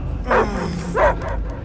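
A dog barks in the Guardians of the Galaxy video game on Xbox: two loud, close barks about half a second apart, each with a slight whimpering edge, separated by quiet.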